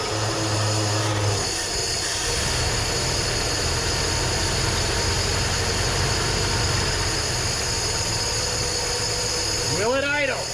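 A 1968 Ford F100 engine, left sitting for 20 years, runs with a steady rough roar throughout, a noisy continuous drone with a whirring rise near the end.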